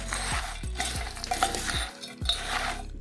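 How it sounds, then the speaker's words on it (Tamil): A spoon mixes honey through boondi sweet in a vessel, giving quick repeated scraping and clinking strokes up close, with no talk. "நல்லா அதை மிக்ஸ் பண்ணிக்கோங்க"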